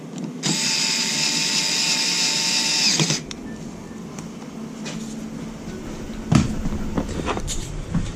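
A power drill whines loudly for about three seconds while working a bolt on a 2022/2023 Yamaha Zuma 125cc scooter during a chain tensioner replacement, followed by quieter clicks and knocks of the tool handling.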